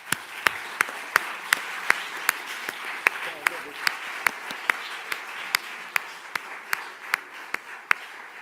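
Applause ends a round-table discussion at a Sardinian cinema event, with sharp, evenly spaced claps about twice per second standing out over a steady wash of audience clapping, moderately loud and without talk.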